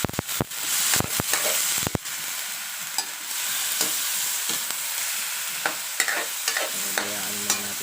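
Pork liempo adobo with potato sizzles steadily in its rendered fat in a pan, opening with several sharp knocks and scrapes of a stirring utensil, then settling into continuous frying crackle with occasional taps.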